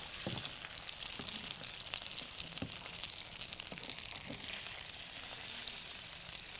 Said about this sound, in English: So you can just make use of a bit of oil and pan-sear your fish.